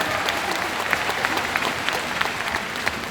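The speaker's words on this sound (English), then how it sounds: "There's some married people clapping over here." An audience of married people at a live motivational event claps steadily, a dense sustained patter of many hands from a crowd, with no speech over it.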